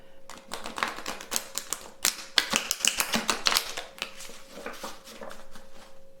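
Tarot cards being shuffled quickly by hand, giving a close run of irregular crisp snapping and riffling clicks with no talking.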